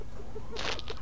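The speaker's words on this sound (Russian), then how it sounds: "Это звуки моего дыхания." Breathing close into a microphone, soft airy puffs and a short burst of breath noise, heard alone without speech.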